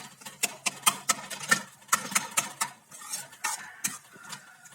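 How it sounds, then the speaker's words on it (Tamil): Tomato and onion thokku gets stirred and chopped up in hot oil, with a rapid run of close metal spatula scrapes and clacks against the pan and light sizzling underneath, and nobody talks. "இப்போ லைட்டா கொஞ்சம் கொத்தி விட்டுக்கலாம்"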